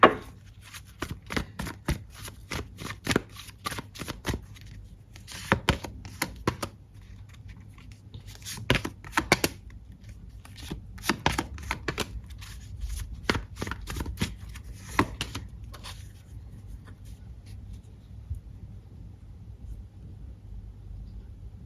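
Tarot cards being shuffled close up: a long series of crisp riffling and flicking bursts at an irregular rhythm, with no talking.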